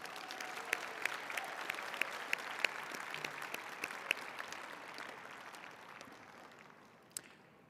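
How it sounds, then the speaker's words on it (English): An audience at a state science and technology fair special awards ceremony in Iowa applauds steadily with sharp individual claps standing out, then the clapping thins and fades toward the end, with one last clap. "let's give a round of applause to all those who have made the fair possible"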